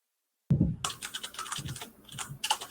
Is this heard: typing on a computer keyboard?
yes